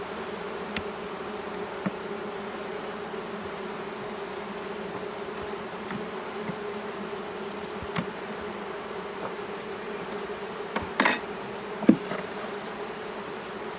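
Honey bees buzz around an open hive during requeening, crowding a queen cage in a steady, close drone, with a few soft knocks and clicks from handling the hive.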